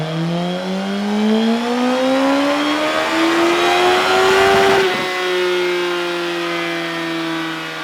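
A Suzuki GSX-S1000F motorcycle with the exhaust baffle removed revs loudly and close up, engine pitch climbing steadily to a peak and then dropping back toward idle, with no one speaking.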